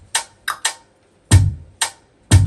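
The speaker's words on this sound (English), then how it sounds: "I now added the rim, which is the main element," Rim drum sample in a hip-hop beat: six crisp, dry clicks in a syncopated pattern, two of them landing with a low thump underneath, playing alone with no talk.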